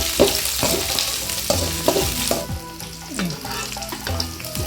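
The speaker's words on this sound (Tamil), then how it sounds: "வெங்காயம் இந்த அளவுக்கு வதங்கிடுச்சு." Sliced onions and 4-5 dried red chillies fry in hot oil for a spicy Tamil onion chutney, giving a steady close sizzle broken by repeated scraping stirs of a spoon against the pan.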